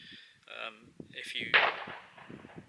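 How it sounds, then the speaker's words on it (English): Distant gunshots from rabbit hunters during hunting season, heard as a few sharp, faint cracks spread through a quiet outdoor scene while someone talks nearby. "The shots you can hear, by the way, are rabbit hunters during the season"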